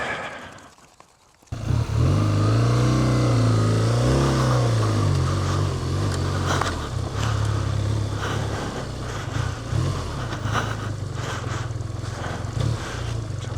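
BMW R12 G/S motorcycle riding off-road at a slow pace, engine starting up loudly after a quiet moment and then thrumming steadily with revs rising and falling over rough ground.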